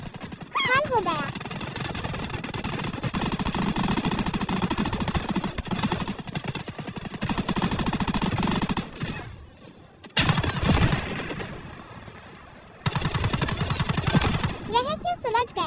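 Rapid gunfire bursts from a mobile shooter game, loud and dense, running almost continuously with brief pauses near the middle; a voice speaks at the start and end.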